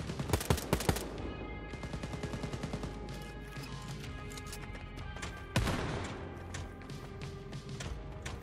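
Gunfire in the Wolfenstein: Youngblood shooter game crackles in dense, rapid automatic bursts that are loudest at the start, then continue as a steady rattle with a sharp crash midway.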